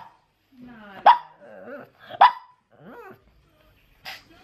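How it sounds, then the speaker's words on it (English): Pug dogs barking at the Simpsons playing on TV indoors, two sharp nearby barks about a second apart and a softer third, mixed with whiny vocal grumbles and a voice talking. "Why are they both barking? It's because the Simpsons are on."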